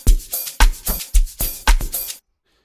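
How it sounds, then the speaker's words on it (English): Amapiano drum loop from a sample pack: punchy kick and snare hits with crisp bright percussion in a steady syncopated pattern, loud and dry, about two seconds long before cutting to silence. "So the first drum loop sound,"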